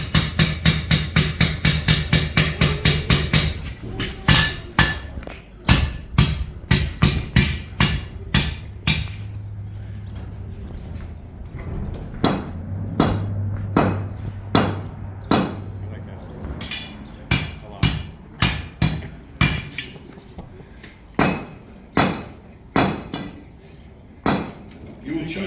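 A hammer strikes a steel bar to upset it, giving a long series of sharp ringing metallic blows. Fast repeated strikes at first are followed by slower, evenly spaced hits with brief pauses, loud and close.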